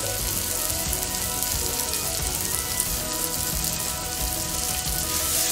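Cabbage frying in a pan on a medium gas flame sizzles steadily and loudly at close range, a continuous dense crackle with no talking.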